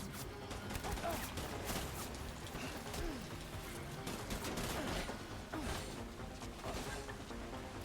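Enemy gunfire in the video game Death Stranding: dense, overlapping bursts of shots and clattering impacts that continue throughout at a fairly even loudness.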